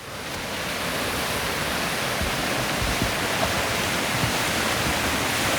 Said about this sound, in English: can even hear me over the roar of that water